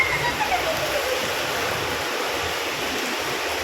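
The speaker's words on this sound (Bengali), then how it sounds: "ভালো বৃষ্টি হচ্ছে, দাও দেখাই।" Heavy rain pours down outdoors in a steady, dense wash of noise with no break, loud and close throughout.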